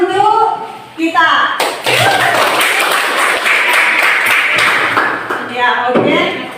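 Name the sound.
applause from a classroom of students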